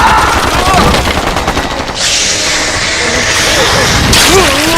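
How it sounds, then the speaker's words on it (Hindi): Sustained bursts of automatic gunfire in a battle scene from the film Battleship, loud and dense throughout with rapid overlapping shots and crashing impacts, a few voices faintly audible beneath. "बिना रोके गोली चलाते रहो।"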